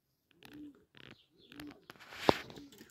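Pigeons cooing inside a pigeon coop, a few soft low coos spread over a few seconds with light rustling and one brief sharper sound, heard close and fairly quiet with no talk.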